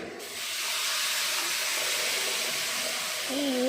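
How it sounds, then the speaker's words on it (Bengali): Water boils vigorously in a cooking pot over fried ingredients, producing a loud, close, continuous hissing bubble that swells briefly near the end. "টকবক করে ফুটছে।"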